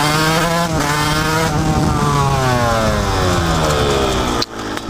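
A Fantic TZ 125 two-stroke motard motorcycle revs hard in first gear, pitch climbing steadily across several seconds, loud and close, then dropping off sharply near the end.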